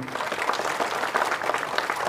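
An audience claps steadily for the film team at the teaser and trailer launch of the Kannada film Ramesh Suresh: dense, continuous applause that holds at an even level for about two seconds.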